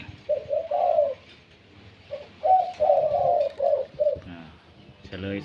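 A dove with a medium-to-deep voice coos in two groups of rolling, repeated phrases close by; a brief burst of other noise comes at the very end.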